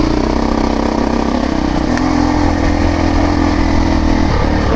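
A 350 Discovery posty-style motorcycle rides a hilly backcountry track, its small single-cylinder engine droning loud and close with a steady low hum that shifts pitch slightly as the throttle changes.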